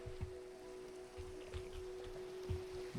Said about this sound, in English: Oh, we got more rain.